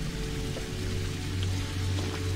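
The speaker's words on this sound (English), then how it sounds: "I hear waterfalls." Waterfall ambience in the video game Conarium: a steady, dense rushing and splashing wash of water that stays at an even level throughout, with no talking.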